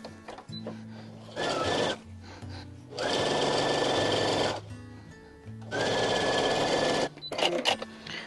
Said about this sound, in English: just take and sew down one side 1/4 inch down the long side